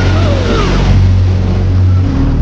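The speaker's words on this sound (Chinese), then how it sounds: "一脚油门冲进了水里" A car engine roaring as it accelerates into water in a thriller film scene, a loud continuous low rumble with a steady drone that holds throughout before easing slightly at the end.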